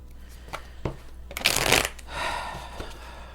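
A deck of tarot cards is shuffled by hand, giving a short flurry of riffling and slapping card sounds with a few soft taps before and after, close and fairly quiet.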